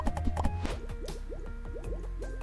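Water tiles being placed in the Necesse video game, a run of soft, rapid liquid blops and drips repeating in quick rhythm over a low steady game background, fairly quiet.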